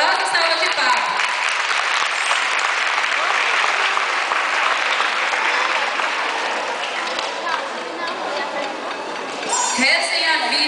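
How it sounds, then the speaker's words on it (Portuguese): Warm applause at a parish gathering greeting children about to perform, a dense sustained clapping from a crowd that swells, holds and briefly dips, close and loud throughout. "Vamos recebê-los com uma calorosa salva de palmas"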